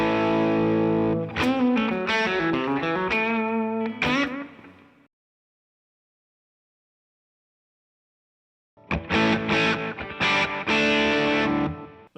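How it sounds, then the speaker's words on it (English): An electric guitar played through a JHS Dumble-style overdrive pedal with the output raised gives a warm, moderately driven tone. A run of picked notes and chords rings out, falls silent for several seconds, then returns with more strummed chords. "Here, raising the output gives you a little bit more of an overdrive sound."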